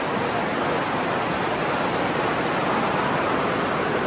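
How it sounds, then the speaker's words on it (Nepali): A dense, unbroken roar of heavy rain, loud and even from start to finish, with no talking. "बाहिर यस्तो पानी परेको छ"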